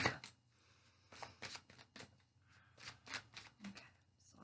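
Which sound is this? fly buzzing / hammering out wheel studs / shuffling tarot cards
shuffling tarot cards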